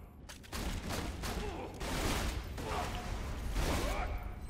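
Bursts of rapid gunfire from a Borderlands 2 weapon on burst fire run through a dense, continuous video game soundscape, with repeated rattling volleys at a fairly low level throughout.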